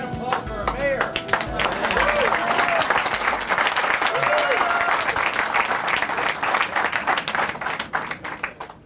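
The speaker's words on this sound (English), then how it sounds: "Big round of applause for our mayor." An audience at an October 2016 groundbreaking ceremony applauds the mayor with a steady, dense wave of clapping that swells and lasts several seconds before tapering off, with some voices mixed in.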